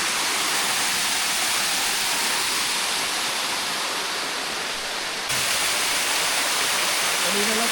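A rushing waterfall pours into a forest lagoon, a loud, constant, close roar of white water with no let-up across the whole stretch.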